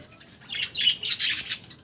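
Budgerigars chatter and squawk in a breeding colony of nest pots, a run of bright, rapid calls swelling from soft to loud with several overlapping birds close by.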